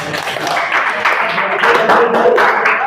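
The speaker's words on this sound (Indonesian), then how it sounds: "tepuk tangan buat Nata" A class of high-school students in a chemistry lesson on acids and bases claps for a classmate, a brisk, busy round of hand claps close by, mixed with some chatter and talk.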